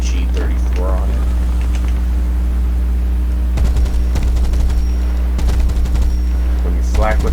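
Sd.Kfz.251/21 self-propelled anti-aircraft guns in War Thunder fire in short, controlled bursts of rapid automatic shots, loud and close, with gaps of steady engine drone between volleys.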